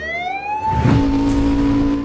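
A police car siren wails nearby, its rising and falling tone sweeping through the whole stretch over a passing vehicle's engine roar that swells in the middle, with no talking.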